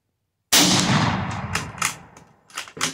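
A Mauser 1871/84 rifle fires one loud, sharp shot after half a second of silence, with a long rolling echo and some fainter thumps trailing off outdoors.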